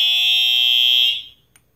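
A fire alarm horn sounds during a system test, a loud close steady electronic tone that cuts off after about a second, followed by a faint click.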